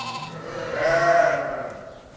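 A single drawn-out lamb bleat, loud and close, swelling in the middle and fading at the end, with no talk over it.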